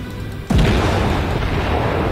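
Naval guns fire in a World of Warships battle: a heavy, close boom bursts out and is followed by a sustained low rumble that stays loud to the end.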